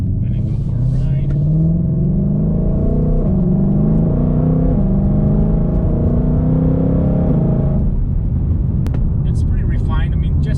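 A 2020 Shelby GT500 in sport mode accelerating, its engine note rising steadily as a loud, sustained rumble under a voice, then easing off near the end.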